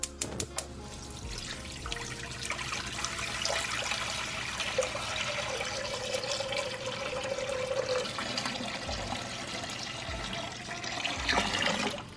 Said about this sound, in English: This is the water we will use to rinse the collard greens.